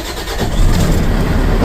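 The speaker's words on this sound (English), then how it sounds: "Then you want to go ahead and get in your truck and then make sure it starts." A Freightliner M2 box truck's engine starts after its batteries are replaced, a brief crank rising into a loud, steady diesel rumble close by.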